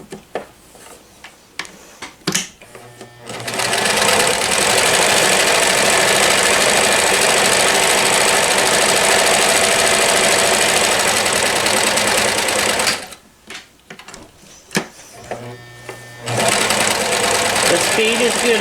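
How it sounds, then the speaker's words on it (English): A 1994 New Home Limited Edition Model 108 sewing machine stitches fast and loud in two long continuous runs, with a steady whirring, knocking motor rhythm, separated by a pause where a voice speaks. "I have a tendency to go fast when I'm sewing, but you don't have to sew that fast."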